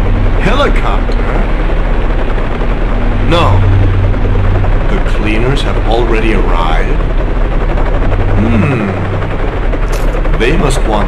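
A helicopter in the video game Resident Evil Survivor gives a steady, loud rotor drone throughout, with short burst-like effects, while characters talk over it.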